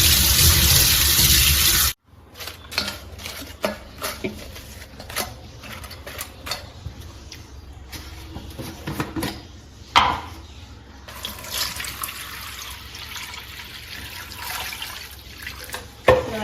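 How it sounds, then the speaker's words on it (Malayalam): Fresh tap water runs and splashes steadily while something is rinsed clean for a betta fish setup, with a brief loud burst at the start, then uneven trickling and dripping with occasional sharper splashes, close up and without talk. "നമ്മൾ ഫ്രഷ് വാട്ടർ വെച്ചിട്ട് നല്ലോണം വാഷ് ചെയ്തെടുക്കാം"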